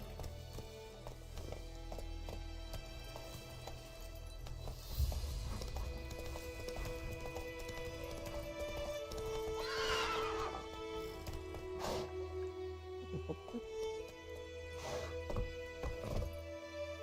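Roach, the horse in The Witcher 3 video game, clip-clops along at a steady gait with a clear whinny around the middle, set against a continuous in-game music and ambience bed.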